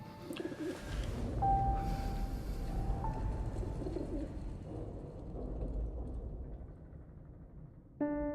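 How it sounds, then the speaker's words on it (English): An injured bird coos in the video game 11-11 Memories Retold, soft repeated calls set against a steady, dense wash of background game ambience, with no one speaking. "He found a gravely injured bird, which he nurses back to health."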